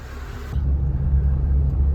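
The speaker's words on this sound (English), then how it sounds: "we're driving around now, slowly, gently, stopping, starting, accelerating, decelerating" Suzuki Jimny driving slowly after an erratic idle fix, a low close engine rumble that steps up and holds steady, with no talk.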